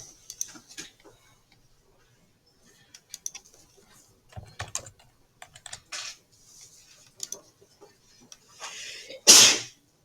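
A single sharp sneeze bursts out near the end, loud and close, after quiet scattered typing and small clicks in a classroom.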